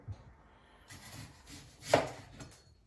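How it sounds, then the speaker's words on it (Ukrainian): Kitchen knife slicing an onion into rings on a board, a few soft cuts with one sharper chop near the middle, quiet and close, no talk. "Беремо цибульку, ріжемо кільцями."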